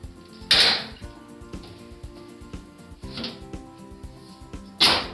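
A wall-mounted air conditioner's front grille being opened and closed, giving two sharp plastic clicks about four seconds apart, close and fairly loud, with faint handling rattles between them and no talking.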